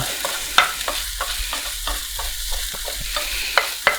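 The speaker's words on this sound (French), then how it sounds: "On continue de bien remuer." A potato omelette stirred in a frying pan just after the gas is turned off, with repeated scraping strokes and soft sizzling, plus a few sharper utensil clinks against the pan near the start and end.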